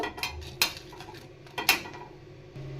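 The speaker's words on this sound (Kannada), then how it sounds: "ನಾನಿಲ್ಲಿ ಖಾರಕ್ಕೆ ಅಂತ ಮೂರು ಒಣಮೆಣಸಿನ್ಕಾಯಿ ಮತ್ತು ಎರಡು ಬ್ಯಾಡಿಗೆ ಮೆಣಸಿನ್ಕಾಯಿ ಸೇರಿಸ್ತಾ ಇದ್ದೀನಿ ಇದನ್ನು ಹಾಗೆ ಡ್ರೈ ರೋಸ್ಟ್ ಮಾಡ್ಕೋಬೇಕು" Dried red chillies, including Byadgi chillies, dry roasting in an empty pan: scattered metallic clinks and scrapes of a spatula against the pan, a few sharper knocks, quiet and close with no talking.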